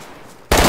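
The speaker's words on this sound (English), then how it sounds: "Stop shooting!" Video game gunfire bursts in suddenly and loudly as a rapid automatic volley after a quiet start, dense and continuous to the end.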